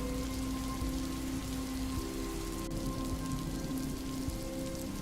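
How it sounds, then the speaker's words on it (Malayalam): Steady rain pours onto stone and water at the old bathing ghat of Hill Palace in Thripunithura, Kerala, a dense, even hiss with scattered nearby drips and no voices. "പണ്ടത്തെ കുളിക്കടവും കണ്ട് ഞാൻ മഴ നല്ലപോലെ ആസ്വദിച്ചങ്ങനെ നിന്നുപോയി"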